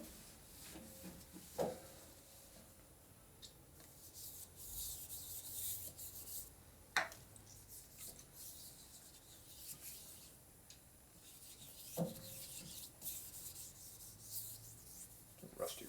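Steady scrubbing of a part with a scrub pad in a Harley motorcycle shop, a continuous rough rubbing sound with a few sharp knocks and clatters now and then, fairly close.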